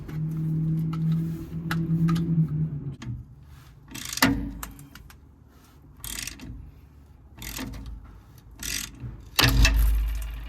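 Ratchet wrench loosening bolts on a Freightliner M2 truck suspension, with clicking bursts and sharp metallic knocks scattered across the clip, a low hum early on and a heavy clunk near the end.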